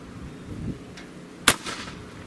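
A single sharp rifle shot cracks out at a range, fired through a rifle fitted with a 5-30x56 first focal plane scope, one loud brief report standing alone with a short echo trailing after.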